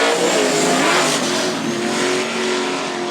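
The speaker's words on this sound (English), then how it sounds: "Looks like Brandon struggles to get power to the ground." A drag racing car launches at Knoxville Dragway in a hard-tire final, its engine roaring loud and sustained with pitch shifts as it struggles for traction, no talking over it.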